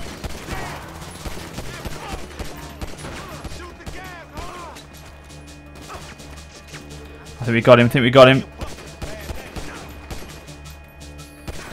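A short burst of rapid gunfire in Grand Theft Auto 5 on PC rattles out midway, loud and close, amid ongoing talk and background game noise.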